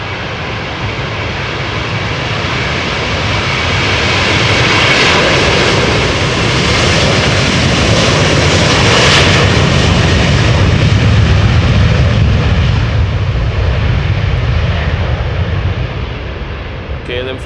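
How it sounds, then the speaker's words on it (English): A KLM Airbus A330-300 jet departs Amsterdam Schiphol in a crosswind, its engines building into a loud, broad roar that swells through the middle and stays powerful as it climbs away. "Airbus A330-300 going to Houston, Texas."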